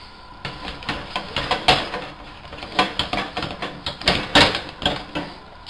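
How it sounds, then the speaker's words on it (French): Flour is beaten into boiling butter in a pan off the heat to make choux dough for éclairs, with a spoon knocking and scraping against the pan in a quick, uneven rhythm, loud and close. "on va arrêter le feu aussi sec et on va rajouter la farine et mélanger"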